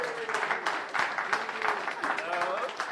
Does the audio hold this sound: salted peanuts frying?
no